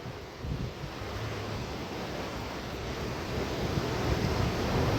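Steady roar of surf washing in continuously, with wind rumble over the microphone and no voices.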